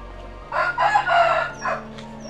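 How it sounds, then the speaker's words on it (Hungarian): Roosters in a Bangkok neighbourhood crowing loudly and close, with a couple of long drawn-out calls in quick succession and a steady low hum underneath. "Ők azért jó erőben vannak ezek a kakasok."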